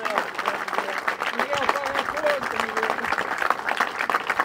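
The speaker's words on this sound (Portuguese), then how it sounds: "peço uma grande salva de palmas" A political rally crowd for Chega Madeira applauds Miguel Castro and his team, sustained clapping with speech carrying over it.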